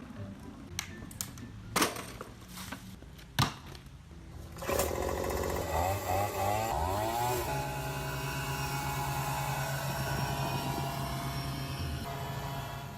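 A few sharp clicks and knocks, then a small leaf blower engine starts up and revs before settling into a loud, steady drone.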